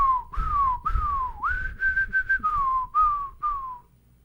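A weird synth patch from Analog Lab for a trap melody: a whistle-like lead gliding and bending between pitches in a short looping phrase of sliding notes, close and clear with no voices.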